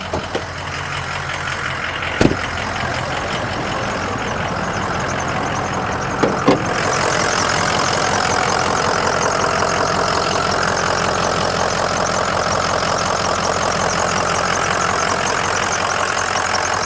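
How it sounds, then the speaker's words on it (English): A 2004 Ford Excursion Limited 4WD with a 6.0L Powerstroke diesel idles under the open hood. A loud, steady diesel clatter continues throughout, with a couple of sharp clicks near the start. "Let me show you under the hood so you can hear it idle"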